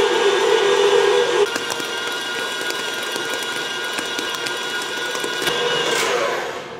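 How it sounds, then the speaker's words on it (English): A stand mixer kneads a ball of bread dough with a steady mechanical whir and rhythmic clicking and knocking, loud and continuous throughout, slightly heavier toward the end. "Now, you want to run your mixer for about 5 to 10 minutes until a nice ball of dough forms."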